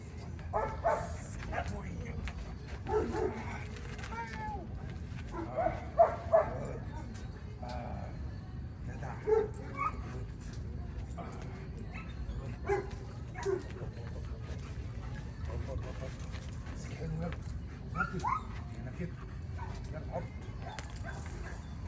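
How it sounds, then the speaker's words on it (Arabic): A fearful dog, frightened by a stick, gives faint whimpers, yips and a few short barks scattered over a steady background hum, heard from a short distance. "الكلب بيخاف من اي حاجه طويله زي العصايه كده"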